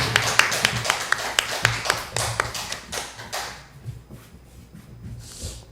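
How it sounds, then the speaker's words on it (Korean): A church congregation claps to welcome a visiting missionary speaker, a quick run of sharp, close handclaps that thins out and fades over the final seconds. "박수로 환영하도록 하겠습니다"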